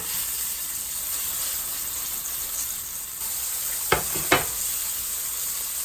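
Puget Sound flounder fillets frying in a pan give a steady, close sizzle throughout, broken near the end by two sharp clacks of the fish being flipped.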